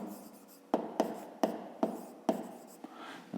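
Pen strokes on paper while working a fifth-grade maths exercise, a series of about six sharp scratchy taps and short strokes at a steady pace, close and fairly quiet, with no voice.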